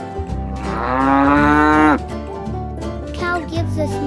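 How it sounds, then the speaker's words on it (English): A cartoon cow gives one long, loud moo lasting over a second and rising then falling, followed by softer musical or vocal sounds in an animated farm-animal lesson for kids. "This is a cow."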